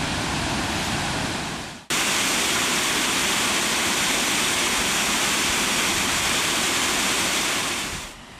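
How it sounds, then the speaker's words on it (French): Waterfall at the end of a stream in Mui Ne, Vietnam: a steady, dense roar of falling water, loud and close, continuous for several seconds with a brief break near the start. "Nous sommes arrivés au bout de la source, là où on trouve des chutes d'eau"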